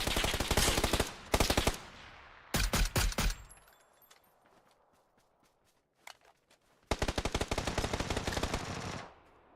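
Automatic gunfire from the video game PUBG on console, in loud sustained bursts of rapid shots separated by short pauses, with a few isolated single shots between the bursts.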